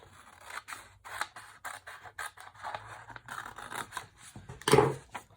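Scissors snip through folded paper in a quick series of close, crisp cuts, with a louder rustle of the paper near the end and no talking.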